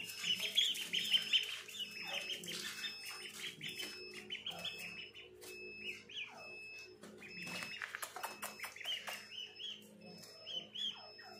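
High, thin duckling peeps repeat in quick clusters alongside soft clucking from a hen, moderately close with a low background hum.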